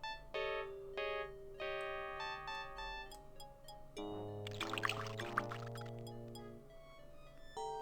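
Water pours in a Sherlock Holmes adventure game, a bright gurgling splash rising near the middle, framed by soft synthesized musical tones and chimes before and after, with no talk.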